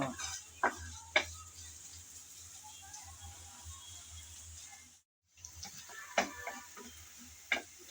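Onions frying lightly in a pan while being stirred, a quiet low sizzle with occasional sharp scrapes and clicks of the spatula, a brief dropout midway, no talk.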